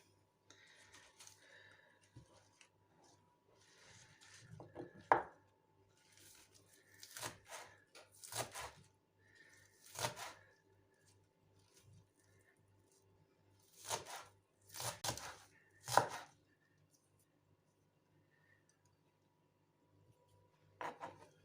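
Green onions being cut with a knife on a board while preparing a liver salad, a series of irregular close, crisp chops and scraping taps, some clustered in quick bursts with quiet gaps between.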